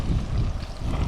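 Outdoors beside a cooking fire, wind buffets the microphone with a continuous low rumbling roar for about a second, with no voices.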